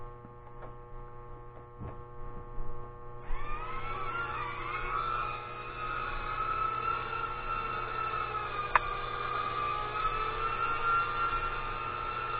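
A Tiny Whoop micro drone with 8mm motors spins up and hovers, its thin high-pitched whine rising and wavering, then holding steady over a low electrical hum.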